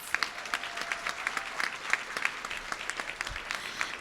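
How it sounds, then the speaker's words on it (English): Summit audience applauding Mayor Muriel Bowser, fairly quiet, distinct individual claps in a steady patter across a room, without talk over it. "One round of applause."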